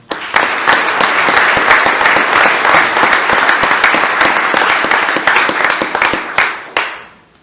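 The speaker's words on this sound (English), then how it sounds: "let's give them another round of applause" At a school board meeting, an audience gives high school band students a loud, dense round of close applause that holds steady and fades near the end.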